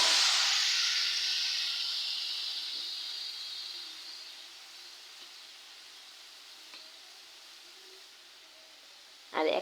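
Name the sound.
water added to fried onions hissing in pan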